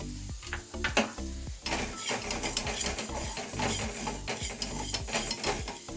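Fenugreek seeds being dry-roasted in a pan for mango pickle make a continuous rattling, scraping stir with small metallic clinks, loud and close and without pause.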